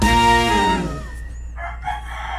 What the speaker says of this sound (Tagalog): Ayun, nakawala yung manok ni Bicol Ako Vlog